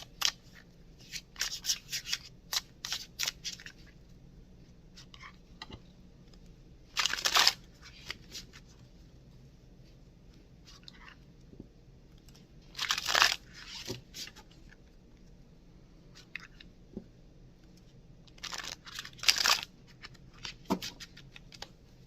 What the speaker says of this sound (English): Cutting the cards.